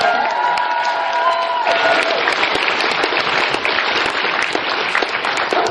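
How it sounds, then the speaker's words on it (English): Audience applause at an anime convention fills the room with steady, dense clapping from a large crowd, loud and close, running throughout with a brief tonal sound fading in the first seconds. "So I'm going to give a big round of applause."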